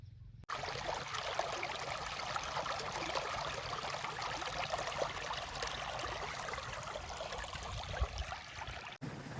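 Steady water flows continuously from a buried farm pipe, a dense trickling splash close by with no voices, cut off briefly near the end.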